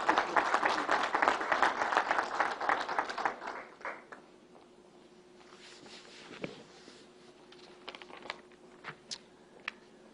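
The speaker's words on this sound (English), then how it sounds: "So for them, they need a round of applause as well" Audience applause at a press event, a few seconds of dense clapping that quickly thins out and fades to a quiet room with scattered faint knocks and rustles.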